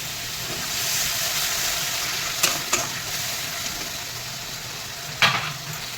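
Water poured into a pan of frying spices, mustard and poppy seed paste for a Bengali prawn curry, sets off a steady loud sizzle with a few scraping stirs of a spatula.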